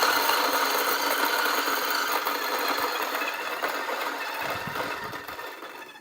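Acaia Orbit coffee grinder motor running loud and close for the whole stretch, a steady whirring hum that tapers slightly toward the end as its speed is ramped up and down.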